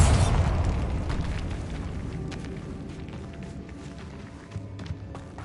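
A Bombarda spell explodes in Hogwarts Legacy: a loud, close burst opens and then decays into a long rumbling tail, with faint clatter and a couple of small pops near the end.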